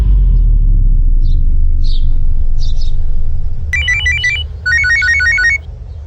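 A telephone rings indoors in two bursts of rapid electronic trilling, loud and near, over a low rumble with faint background sounds before the ringing begins.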